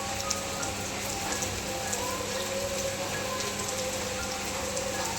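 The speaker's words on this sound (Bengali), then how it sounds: "বৃষ্টি শুরু হয়ে গেছে।" Steady rain falls and patters on surfaces in a continuous, even wash of droplets, moderately loud and unbroken throughout, with no voices.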